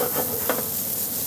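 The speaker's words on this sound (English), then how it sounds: "you hear that sizzle? That's what you want." Potatoes hit a hot sheet tray preheated in a 450-degree oven, giving a brief, close, bright crackling sizzle with a stir-like scrape.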